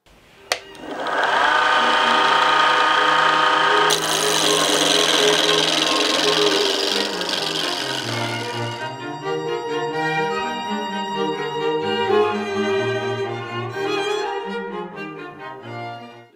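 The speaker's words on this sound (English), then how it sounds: "here you can see what it looks like to carve a pen" A pen blank is carved on a small pen lathe with a hand-held turning tool. A loud, steady motor whine carries a hissy cutting noise that eases after several seconds into a lower, wavering tonal hum, with no talking.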